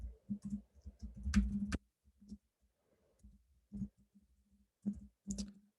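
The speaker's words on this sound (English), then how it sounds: "We just type it out first." Someone types Java code on a computer keyboard in short bursts of clattering keystrokes, broken by brief pauses. The typing is close and fairly quiet, with no speech.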